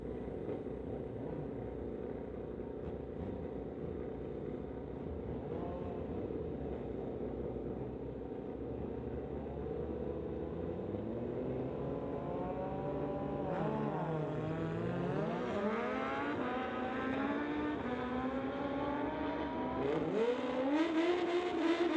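Street-legal drag race cars, including a 2008 XZ14, rumble and rev at the strip, engines rising through gear changes that build into loud rising pitches toward the end, heard from a distance.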